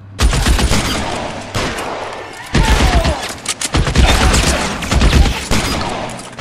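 Gunfire in the video game LA Noire: repeated loud bursts of shots in close succession, several volleys separated by brief pauses, with no talk over them.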